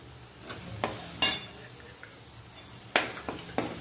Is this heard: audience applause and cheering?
no